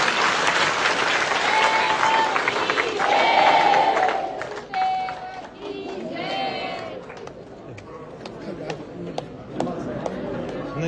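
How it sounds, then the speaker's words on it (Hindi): A crowd of devotees at a Swaminarayan religious assembly in Bhinmal, Rajasthan claps loudly and continuously, dense applause tapering into scattered claps with chatter and voices mixed in. "एक बार जोरदार तालियां"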